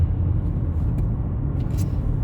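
Car being driven along a road, a continuous low engine and tyre rumble holding steady throughout with a few faint higher clicks, no voices.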